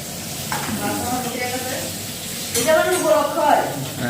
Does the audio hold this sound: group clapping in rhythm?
no